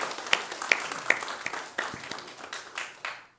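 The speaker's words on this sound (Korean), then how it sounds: "크게 박수로 환영하겠습니다." A church congregation at a Sunday service claps to welcome members. The applause is brief and scattered: several sharp individual claps stand out at first, then it thins and fades out within a few seconds.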